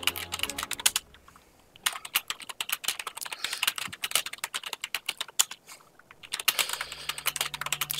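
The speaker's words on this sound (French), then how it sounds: "J'espère qu'on n'entend pas trop mon clavier" Fast, irregular typing on a loud computer keyboard, close up, with bursts of clattering keystrokes broken by a couple of short pauses; no talking.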